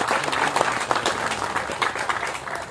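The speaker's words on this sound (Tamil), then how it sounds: "அதனால் முதல்ல அவருக்கு நம்ம கைத்தட்டி நம்ம பாராட்ட தெரிவிச்சுக்குவோம்." Dense applause from a live audience at a Tamil film's music launch event, steady clapping throughout, fairly close and full, with no voices over it.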